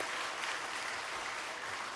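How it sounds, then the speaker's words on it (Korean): A congregation at a New Year special dawn prayer meeting claps together in a steady, dense wash of applause, sustained and even with no voices over it. "우리 모두 섬기고 봉사한 그분들을 위해서 격려와 축복의 박수 한번 하겠습니다."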